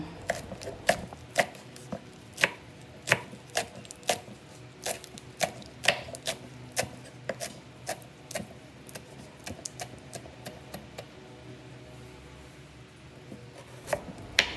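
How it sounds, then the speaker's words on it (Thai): Steady knife chopping of culantro on a cutting board, many quick sharp knocks in irregular bursts, close up with no talking. "หั่นผักชีฝรั่ง"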